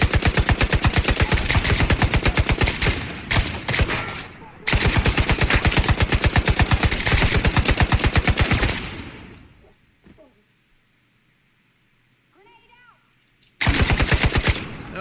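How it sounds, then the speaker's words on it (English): Rapid automatic gunfire from a gun in The Division 2, loud and close in long sustained bursts, cutting off into near silence with faint game sounds before one more burst erupts at the end. "Well, that's not an effective gun, is it?"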